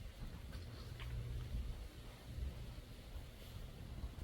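Wind blows through a garden after a stormy morning, a low, steady rumbling roar of gusts buffeting the microphone, fairly faint and continuous with no voices.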